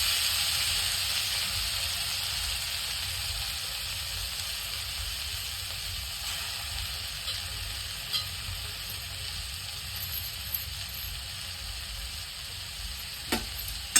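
Sweet potato pieces fry in ghee in a wok with a soft, continuous sizzle, broken by a few faint clicks and one brief sharper tap near the end.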